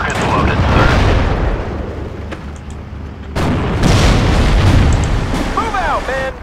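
Rocket explosions in the WWII strategy game Steel Division: Normandy 44 boom loudly one after another over a dense, rumbling battle din, with a sharp burst near the middle and faint radio-like chirps toward the end.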